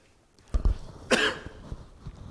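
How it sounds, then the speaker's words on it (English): A single sharp cough stands out in a quiet room, with a few soft thumps and faint rustling around it. "Excuse me, I had to cough."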